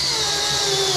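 Cordless drill driving a rivet tool on aluminum rivets, a steady close, loud high-pitched whir with a constant motor tone for the short burst.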